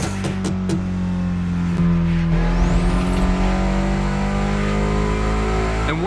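Mitsubishi Evo in The Crew Motorfest game, a loud engine droning and revving steadily as the car drives, with a rising whine and occasional tire noise, no talking.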